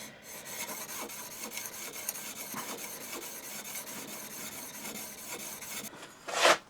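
A hand plane blade is worked back and forth on a 1200 grit sharpening stone, giving a steady, close gritty rubbing that continues throughout and ends in a brief louder scrape.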